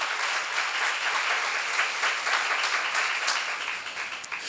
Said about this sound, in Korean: 박수 세게 쳐봐요